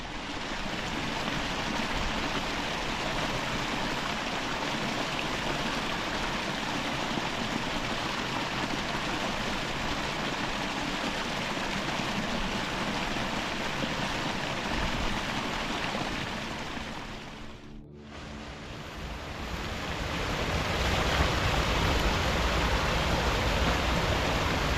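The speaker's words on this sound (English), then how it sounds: "I've just filled my bottles up in that lovely bubbly white water" Mountain beck in the Lake District, bubbly white water rushing in a continuous broadband roar, close and steady, dipping briefly before swelling back.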